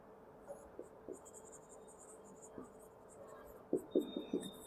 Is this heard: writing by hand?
yes